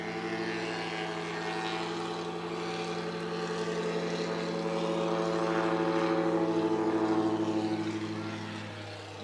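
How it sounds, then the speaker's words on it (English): A Helio aircraft taking off in a STOL competition, its steady propeller and engine drone holding loud and close throughout, swelling slightly in the middle. "Lucas Stutzer in the Helio now for his second takeoff."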